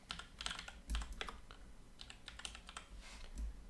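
Close, quiet typing on a computer keyboard, with quick runs of key clicks split by short pauses and a couple of heavier thumps, likely the spacebar or enter key, and no voice over it.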